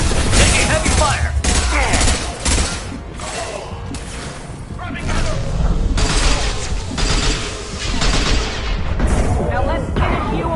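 Heavy gunfire in a firefight from Mass Effect 2, with dense bursts of shots and booming impacts running continuously at close range, mixed with loud game effects and shouted combat voices.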